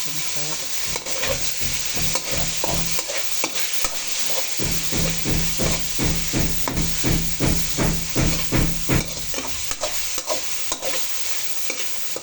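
Pork pieces for menudo sizzling hard in a hot pan, a loud continuous hiss with a fast run of rhythmic stirring scrapes through the middle, close and without voices.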